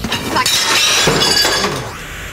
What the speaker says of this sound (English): Oh no, you've just broken my plates.